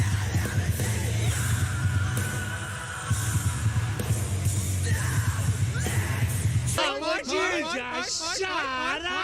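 A man screams and yells on stage through a live performance at the BRIT Awards, loud over the band and crowd noise, then breaks into shrill, wavering wails near the end.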